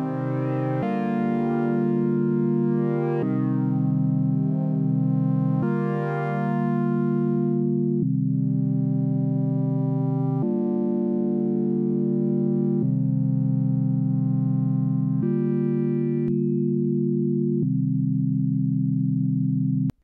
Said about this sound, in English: Here's an example of the Ochd modulating some tones.